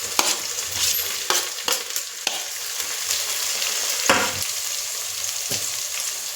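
Onions and chopped green chillies frying in a pan for a greens pulao, a loud close sizzle punctuated by several sharp stirring scrapes and knocks at irregular intervals, with no talking.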